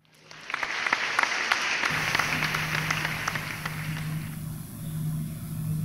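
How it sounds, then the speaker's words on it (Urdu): Audience applause at an evening event in Riyadh honouring Allama Iqbal: dense, steady clapping from a crowd that holds for several seconds, close and loud, with no speech over it. "آپ کی بھرپور تالیوں میں درخواست کروں گا محترم حشام سید صاحب سے تشریف لائیں۔"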